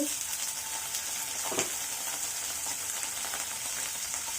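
Sliced onion and four or five split green chilies with garlic sizzle steadily in hot oil in a pan, close and continuous, with a brief stir partway through and no talk.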